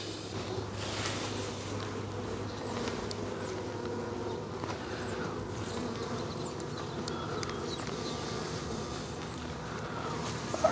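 Honey bees swarm around an opened hive box during a springtime hive split, giving a dense, continuous drone of many wings that stays close and steady throughout, with no talking.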